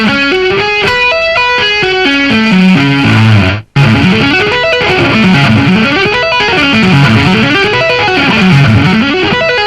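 Distorted electric guitar plays rock arpeggios at a slow tempo, each note ringing out in steady rising and falling patterns, loud and alone with a brief gap partway through.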